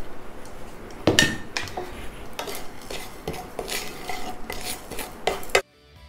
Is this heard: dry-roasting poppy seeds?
yes